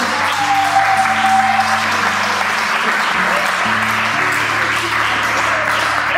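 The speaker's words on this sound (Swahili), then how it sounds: "Wachapie kwanza makofi." Church congregation clapping together during a youth service, a dense, loud, sustained wash of applause over sustained keyboard chords.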